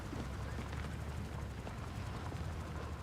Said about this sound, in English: Listen to that engine right there. It's like a struggling diesel.